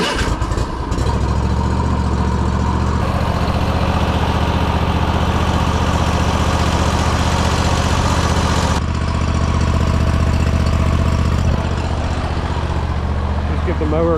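A lawn mower engine starts and then runs steadily, a loud, close, continuous mechanical drone with a rhythmic chug underneath and a slight shift in tone partway through.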